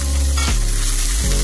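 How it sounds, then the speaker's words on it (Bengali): Potatoes fry in a pan for a Maggi noodle snack, a loud continuous sizzle close by, with a low droning hum and no voices. "একসাথে ভাজা হইয়া যায়।"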